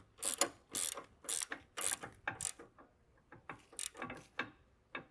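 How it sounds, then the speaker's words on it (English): A ratchet wrench clicks in quick repeated strokes, tightening a ball joint nut on the front suspension of a 2003–2014 Volvo XC90, close and clear with short pauses between bursts. "You want to just tighten down the nut so you don't add any additional wear to it."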